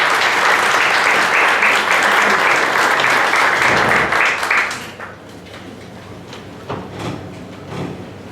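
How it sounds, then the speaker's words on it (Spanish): An audience at a conference on Mexico's National Asset Forfeiture Law gives a speaker a welcoming round of applause. Dense, loud clapping lasts about five seconds, then tapers off into scattered claps and quiet room noise. "le damos un aplauso de bienvenida"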